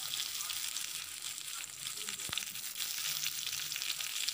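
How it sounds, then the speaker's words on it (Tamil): Sliced onions and garlic cloves sauté in a pan for a village-style black chickpea coconut gravy, a steady close sizzle with one sharp utensil tap midway and faint clinks. "இப்போ இது நல்லா வணக்கணும். வெங்காயம் ஓரளவுக்கு நல்லா வதங்கி வரணும்."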